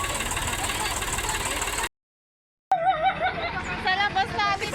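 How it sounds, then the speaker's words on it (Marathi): A tractor engine runs steadily with a rough mid-pitched chug, cuts to silence briefly, then resumes under people laughing and talking nearby. "झाला आमचा ट्रॅक्टर चालू."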